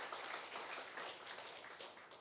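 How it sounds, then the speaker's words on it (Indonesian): Church congregation applauding during a Sunday morning worship service, a steady wash of clapping sustained for a couple of seconds at moderate, slightly distant level. "Boleh kita beri tepuk tangan buat Mas Rizwan."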